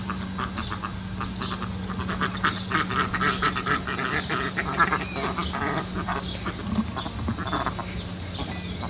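Several ducks quack in rapid, overlapping bursts close by, a busy chatter over a low steady hum.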